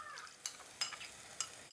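Chili powder is sautéed in hot oil for a fish curry, a low sizzle broken by three quick stirring scrapes in under two seconds.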